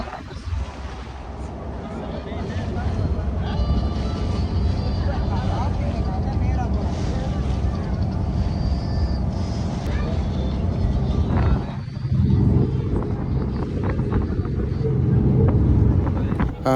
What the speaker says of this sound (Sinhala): දැන් ජටියට පොඩ බෝට්ටුව ලං කරන ගමන් තියෙන්නේ